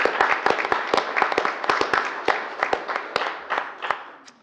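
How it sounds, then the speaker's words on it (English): A meeting audience applauds for a departing colleague, with a dense run of sharp, close claps spread steadily across the room and a faint voice or two underneath. "let's give her a round of applause"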